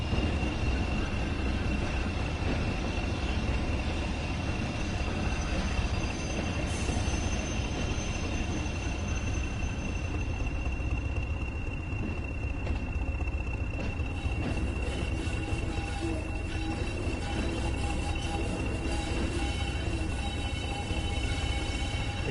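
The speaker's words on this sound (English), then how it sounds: "You got that flange noise as well." Train wheel flanges squeal in the Tees Valley train simulator game, a high sustained whine running over a steady rolling rumble of the train for the whole stretch, with no voices.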